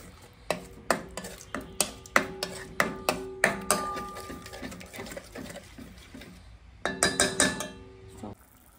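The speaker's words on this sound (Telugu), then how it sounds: "కర్డ్ వేసుకొని మంచిగా మిక్స్ చేసుకోండి" A spoon stirs curd into a boiling Afghani egg curry in a pot, making a regular series of metallic clinks and scrapes at a brisk, even pace, close and fairly quiet.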